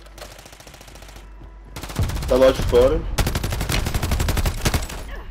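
Bursts of gunfire from the Call of Duty Warzone video game, rapid crackling shots in quick runs with a short burst and then a sustained volley, mixed with players talking over the action.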